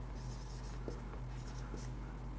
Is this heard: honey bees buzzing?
no